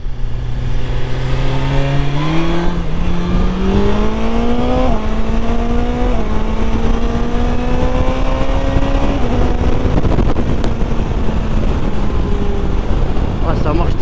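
A 2025 BMW S 1000 XR motorcycle accelerates hard through several gears, its engine note climbing and dropping at each shift, loud and close over heavy wind rush from the rider's point of view.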